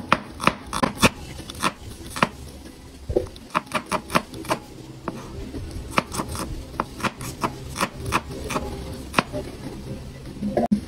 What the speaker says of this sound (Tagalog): Slice lang po natin yung onion.